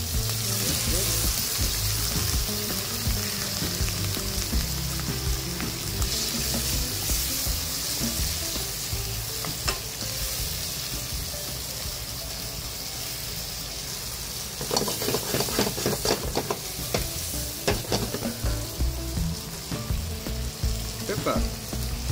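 Shrimp sauté in butter with white wine in a pan, a continuous loud sizzle with occasional stirring scrapes and brief bursts of stronger spitting near the end.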